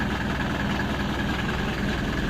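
A T-25 tractor engine fitted with two hydraulic cylinders runs steadily at idle, a loud, even, continuous rumble heard close up with no talking.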